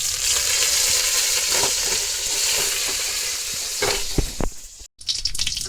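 Cumin seeds and dry curry leaves sizzle loudly in hot oil, a steady crackling hiss with a few sharp pops near the end and a brief dropout before the frying resumes.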